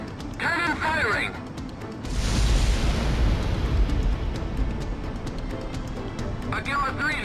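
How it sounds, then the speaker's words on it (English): A shock cannon firing with a massive explosion in the Ace Combat X video game, a sudden loud roaring blast that rumbles on for several seconds, with radio voices talking before and after. "5, 4, 3, 2, 1. Cannon firing!"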